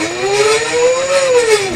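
An electric bike hub motor spinning at full speed gives a loud, steady whine that rises slightly in pitch and then eases back, with a hissy mechanical wash underneath and no voices.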